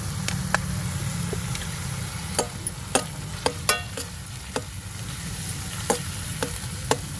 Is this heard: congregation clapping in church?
no